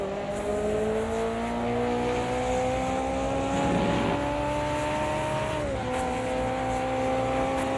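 Race car engine in the Automobilista 2 sim racing game, a four-wheel-drive car, drones steadily at high revs with rising tonal whine, a brief gear shift dip near the end, loud and continuous without talk.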